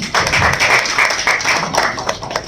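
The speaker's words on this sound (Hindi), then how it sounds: "जोरदार तालियां हो जाए यार" Hands clap throughout as an audience applauds a comedian at a live show, a dense, close burst of clapping that stays strong and then thins slightly toward the end.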